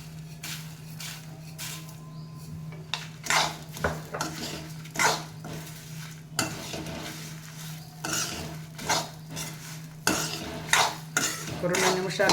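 Flax seeds roasting in a pan on low heat, stirred with a metal spoon that scrapes and clinks against the pan in irregular bursts over a faint steady hum.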